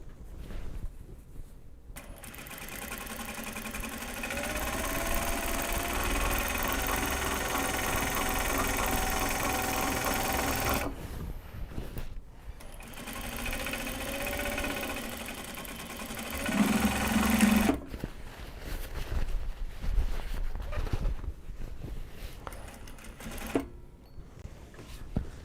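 A sewing machine runs steadily while winding a bobbin during tote bag work with Japanese fabric, its motor whirring in long continuous stretches broken by brief pauses, close and fairly loud, with no talking.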